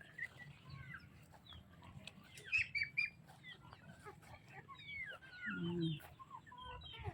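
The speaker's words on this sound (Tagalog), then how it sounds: "May itik, may bibi, may manok." Chickens clucking and ducks calling outdoors at a farmyard, scattered calls with a louder burst near the end, steady background noise throughout.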